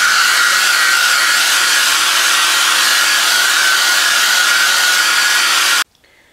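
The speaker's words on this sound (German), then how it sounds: "Mit dem Föhn trockne ich jetzt die Spachtelmasse." A hair dryer blows on acrylic filler paste mixed with marble powder on an abstract painting. It gives a loud, steady, close whir for about six seconds, then cuts off abruptly.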